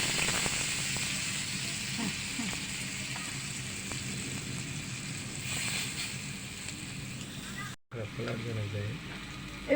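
Stuffed bitter gourd fries on a tawa with a steady, broad oily sizzle that continues almost unbroken, dropping out for a moment near the end.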